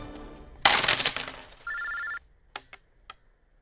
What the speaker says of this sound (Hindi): सिकंदर का फोन है